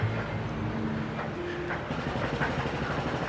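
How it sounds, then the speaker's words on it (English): A theme park train at Universal Orlando rumbles along the track with steady low running noise, faint clicks and a squealing tone, close and continuous, with no talk over it. "I'm gonna take the train for quick passage."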